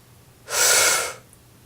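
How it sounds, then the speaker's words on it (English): A deep, deliberate breath drawn in to the bottom of the lungs during a singing exercise, a single loud, airy inhale lasting under a second, heard alone and close. "breathing to the bottom of the lungs"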